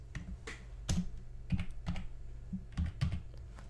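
Computer keyboard typing a folder name during a Minecraft mod setup, a quick run of clustered, close key clicks and taps with short pauses between bursts.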